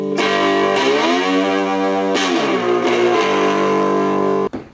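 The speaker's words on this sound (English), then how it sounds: "And that's distortion full." Heavily distorted cigar box guitar through a cigar box amp at full distortion, humbucker pickup, sustained chords ringing out with a few slides and chord changes, then cut off abruptly.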